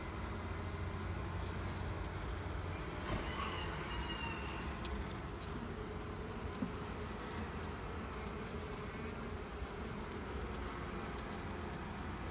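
Bees hum around an open beehive during hive inspection, a faint continuous buzzing drone that stays even throughout with occasional closer passes, no talking.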